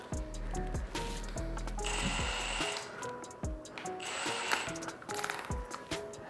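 A power drill driving a long flex bit, about 54 inches, whirs in bursts with clicking, ratcheting mechanical sounds between runs, fairly close, with some high-pitched whine and knocking of wood.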